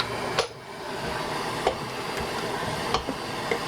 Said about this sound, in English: I'm going to take my wrench and see if we can't turn it